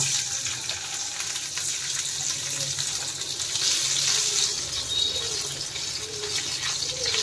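Boiled potatoes frying in hot oil with five-spice in a pan, a continuous close sizzle and crackle with no voices.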